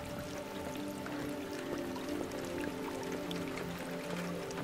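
Rain falling in the video game Detroit: Become Human, a soft, quiet patter with scattered drips over a faint musical hum, constant through the short stretch.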